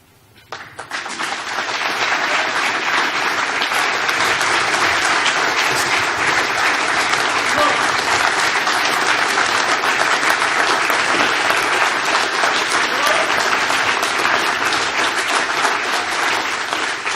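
Sustained, dense applause from an audience at a USMC ball fills the space, swelling quickly and holding loud and steady without talk.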